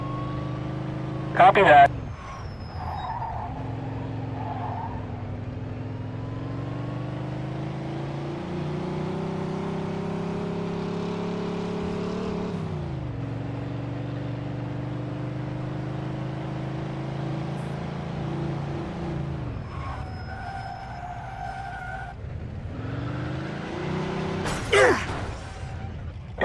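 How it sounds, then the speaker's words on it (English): A speeding car chased by police in the Mafia II video game, its engine droning steadily with revving swells throughout, while radio voices speak briefly over it. "In pursuit of a speeding vehicle."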